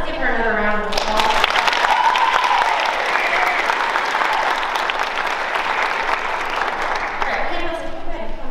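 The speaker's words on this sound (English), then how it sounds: "Let's give her another round of applause." Sustained applause from a high school holiday concert audience fills the whole stretch, steady and dense, with a bit of voice at the start and fading toward the end.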